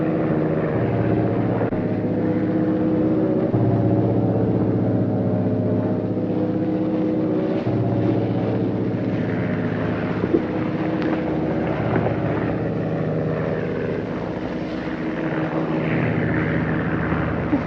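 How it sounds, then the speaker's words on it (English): A propeller airplane circles over an Arizona desert waterhole, its steady engine drone holding loud and continuous throughout with some wind rumble mixed in. "Same plane that was over last week"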